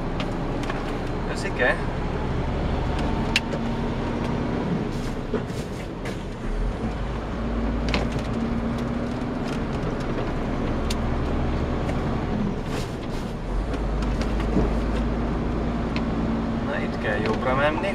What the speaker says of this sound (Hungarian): jön egy kamion szemből